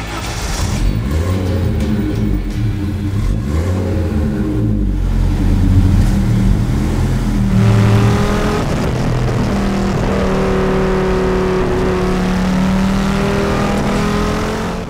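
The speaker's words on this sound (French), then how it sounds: "Surtout le bruit du 5 cylindres, là on n'est plus dans le bruit, on est dans la mélodie." Audi Sport quattro with a turbocharged five-cylinder engine revs loudly and close, its note rising and falling through several sweeping throttle blips, then holding a steady, sustained howl under load.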